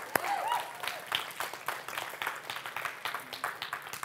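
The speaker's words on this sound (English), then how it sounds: "Give God a hand clap for that." Church congregation clapping their hands during a sermon: scattered, moderately quiet claps that come in uneven bursts rather than a full roar, gradually settling into sparse, irregular hits.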